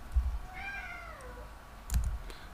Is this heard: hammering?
no